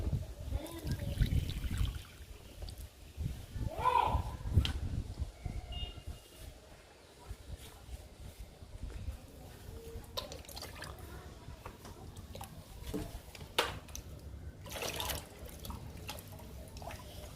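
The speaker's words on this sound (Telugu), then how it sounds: "స్నేక్ ప్లాంట్కి ఇస్తున్నాను లిక్విడ్ని" Liquid poured from a container into the soil of an indoor snake plant, a soft trickle and dribble with a few drips, quiet and close, with faint background sounds.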